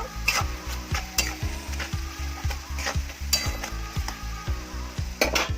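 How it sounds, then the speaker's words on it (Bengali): A spoon stirs pav bhaji vegetables frying in a pan with dry chilli powder and salt, scraping in a steady repeated rhythm over a continuous close sizzle, with a few sharper clinks of metal near the end. "আবার একটু ভালো করে নাড়াচাড়া করে নেব"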